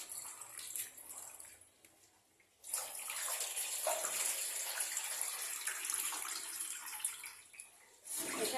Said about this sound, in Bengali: এই মরিচগুলো ধুয়ে নেবেন 2-3 বার